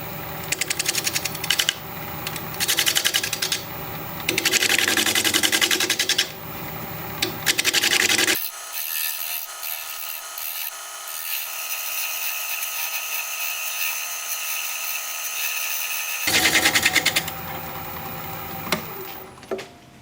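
A bowl gouge cuts into a spinning wood turning on a lathe, a close, raspy scraping that comes in repeated strokes, then settles into a smoother, steady hiss before the rough strokes return.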